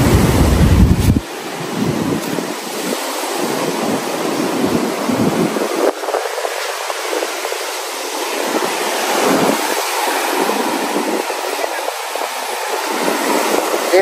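Storm-driven sea waves crash and roar under heavy wind buffeting the microphone, a loud continuous wash that swells and ebbs for the whole stretch, with a brief louder gust at the start.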